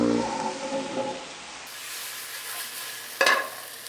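Steak for bruschetta sizzling and frying in a pan as it is swirled around, a steady close hiss with a brief louder scrape or clatter near the end, no talking.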